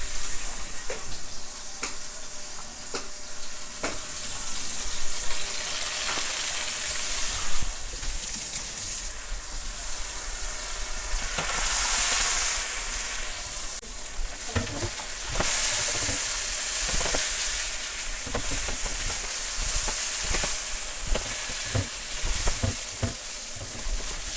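Sliced sweet potatoes, already roasted with meat, sizzle and fry steadily in a hot pan, with a spatula occasionally scraping and turning them; a continuous close crackle with no talking.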